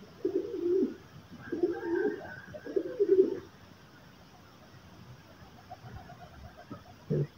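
Pigeons coo in several soft, throaty bursts close by, then fade to a quieter stretch with faint distant bird sounds.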